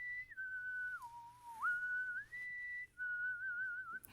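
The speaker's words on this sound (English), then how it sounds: "We were just discussing how well you whistle." A person whistles a smooth, sustained melody, sliding between notes with brief pauses, close and clear with no talking.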